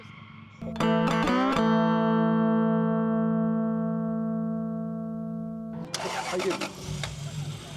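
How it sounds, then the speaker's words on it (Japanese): A V8-swapped Toyota AE86 cranks and catches, settling into a steady, loud idle with strong harmonic drone for several seconds before a revving burst and commotion at the end; a brief voice is heard at the start. "ちょっと一旦エンジンかけてもらえます？"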